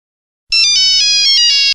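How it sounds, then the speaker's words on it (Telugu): A mobile phone rings in an office, a loud, close electronic melody of bright repeating tones lasting just over a second after a moment of silence, with no voices. "ఎవరిదా ఫోన్ మోగేది?"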